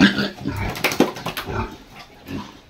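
A feverish pig in its pen on a farm gives several short grunts and snorts, close and moderately loud, with a few brief pauses between them.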